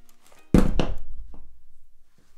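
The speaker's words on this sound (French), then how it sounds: "Je commence déjà à faire tomber les objectifs." A Sony Zeiss 55 mm f/1.8 camera lens falls onto a surface with one loud, close thunk and a short rattle, then quiet.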